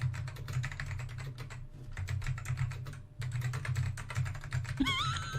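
Rapid clattering computer keyboard typing in steady bursts with a brief pause, close and fairly loud over a low background hum, ending with a short electronic chirp.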